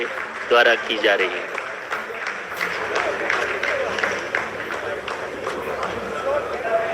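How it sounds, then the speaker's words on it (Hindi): ISRO scientists in the control room applaud after a Chandrayaan-3 landing phase completes, steady clapping running under a commentator's voice. "आप इस तालियों के गड़गड़ाहट को सुन सकते हैं"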